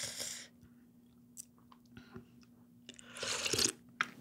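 Slurping and crunchy chewing of spicy ramyeon made with whole peperoncino chilies, close and intimate, a loud burst at the start and a busier cluster of mouth sounds near the end, with quiet pauses between.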